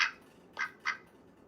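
Pet duck named Olivia Gray giving three short, nasal quacks, the first loudest and the other two close together, near and clear in a quiet room with no talk.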